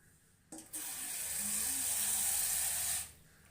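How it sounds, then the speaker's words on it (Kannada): Water runs steadily from a tap onto soaked fenugreek seeds in a kitchen, a close, even hissing rush of about two and a half seconds that starts and stops abruptly. "ಮೆಂತ್ಯನ ನೋಡಿ ಇದಕ್ಕೊಂದು ಸ್ವಲ್ಪ ನೀರು ಸೇರಿಸ್ಕೊತೀನಿ ನಾನು"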